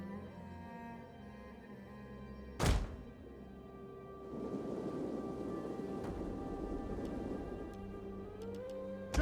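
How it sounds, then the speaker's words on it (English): Field artillery in Total War: Rome 2 fires one heavy, sharp boom, followed by a rumbling, rain-like wash of battle noise that swells and lingers at moderate volume. "Field artillery."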